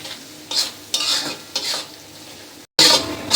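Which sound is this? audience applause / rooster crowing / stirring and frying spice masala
stirring and frying spice masala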